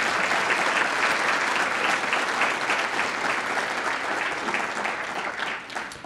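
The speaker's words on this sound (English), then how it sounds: "let's give them a round of applause" An audience at the North Hennepin Area Chamber of Commerce Star Student Awards applauds the committee co-chairs, a steady, full round of crowd clapping that carries on for several seconds and eases off slightly toward the end.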